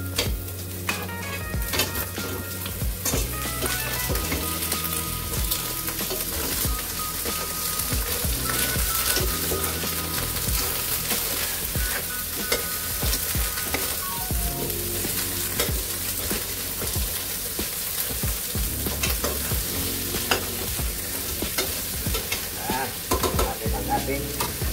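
Crab sizzles loudly in a pan for Filipino ginataang alimasag, frying steadily while a spoon scrapes and stirs through it in repeated strokes, with no talking.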